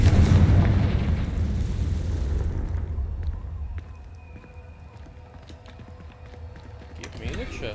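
A Confringo fire spell blasts in the game Hogwarts Legacy, opening with a loud, booming explosion whose rumble gradually fades into quieter ambience with scattered small clicks and ticks.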